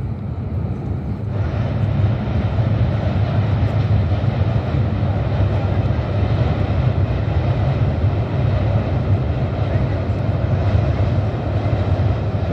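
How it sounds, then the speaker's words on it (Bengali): The Rocket passenger train crosses the Hardinge Bridge with a loud, continuous rolling rumble that swells after the first second and holds steady, without speech. "দর্শক, ট্রেনটি আপনারা দেখতে পাচ্ছেন।"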